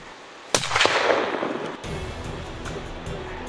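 A rifle shot during a bear hunt cracks out sharply at close range, then a second sharper report follows and echoes away into outdoor background noise.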